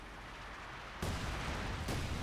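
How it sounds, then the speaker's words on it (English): An incendiary artillery barrage lands in the Company of Heroes 2 strategy game, two heavy booms striking over a low rumbling battlefield backdrop. "Incendiary artillery barrage."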